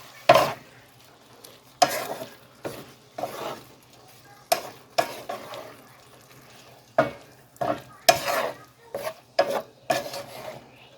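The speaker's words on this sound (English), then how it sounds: "Now I'm gonna add in my sausage and let it all go together." Sausage frying in a pan with seasoning and vegetables, stirred in repeated scraping strokes over a soft steady sizzle, close and moderately loud, with no talk.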